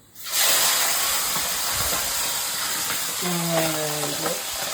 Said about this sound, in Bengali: তো চলো মাছগুলো ভাজা হয়ে যাক